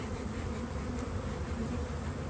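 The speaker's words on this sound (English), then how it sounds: "The bees react pretty good to just a few gentle puffs of smoke." Honeybees in a hive in Southern California in winter, being gently smoked by a beekeeper, hum and buzz in a steady dense drone with no talk over it.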